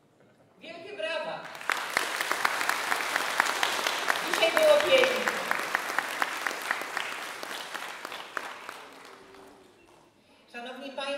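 Sustained audience applause for a music school ensemble on a school open day in Sienno, rising quickly and holding steady for several seconds before fading, with a voice speaking briefly over the end.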